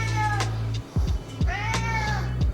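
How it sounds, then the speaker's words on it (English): A hungry cat meows repeatedly, two or three drawn-out, rising and falling cries close by, over a steady low hum in a home setting, with no one talking. "my cat, he's hungry."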